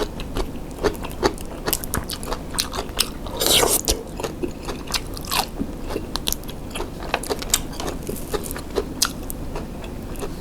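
Someone eating sticky rice with jaew bong chili dip and sun-dried beef, close-up crunchy bites and chewing with scattered clicks and scrapes, steady throughout.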